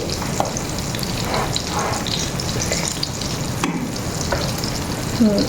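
Tempering (baghar) of dal with tomato in a home kitchen, a steady, continuous frying sizzle close by, with faint clinks of stirring and no talking.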